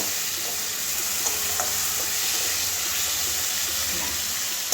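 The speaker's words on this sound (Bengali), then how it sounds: "এবার এটা কষিয়ে নেব ভালো করে" Fish curry with potato, pointed gourd and carrot sautéing steadily in a pan, a continuous close sizzle with light stirring scrapes, no voices.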